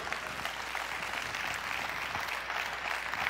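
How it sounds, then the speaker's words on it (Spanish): A church congregation applauds in praise to the Lord, a steady roomful of hands clapping evenly throughout, full and sustained with no voices over it. "Dele un aplauso al Señor."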